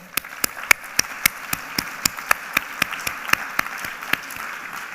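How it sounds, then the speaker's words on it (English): A conference audience at a rural housing morning plenary applauds steadily, with crisp individual claps standing out over the dense wash of clapping. "Let's give her another round of applause."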